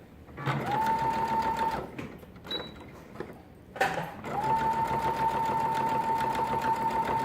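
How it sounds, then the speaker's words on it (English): A sewing machine runs a straight stitch along burp cloth fabric: a loud, steady, close mechanical hum in two long runs separated by a brief pause, with no talking. "And I'm just doing a straight stitch. So we go down the whole length"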